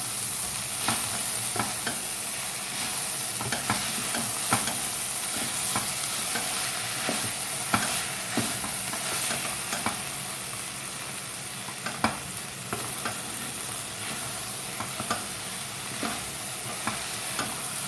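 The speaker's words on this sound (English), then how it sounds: "So that means it's cooked and we can give it a stir." A pan of bread pakora mixture sizzles steadily while a utensil stirs it, the scraping taps recurring at an uneven pace close by over the frying hiss.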